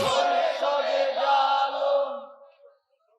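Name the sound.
crowd shouting takbir (Allahu Akbar) at a religious sermon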